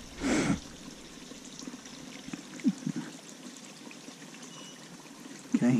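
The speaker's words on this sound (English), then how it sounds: "Listen to the water for a minute." Gentle stream water trickles steadily in the background, soft and continuous, with a few brief knocks and bumps nearby.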